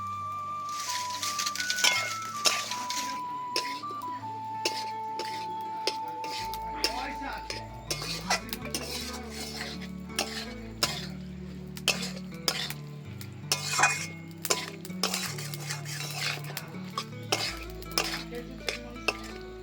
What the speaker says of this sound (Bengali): অনেকটা টাইম নিয়ে মাশরুমটাকে হালকা আঁচে কষিয়ে নেব।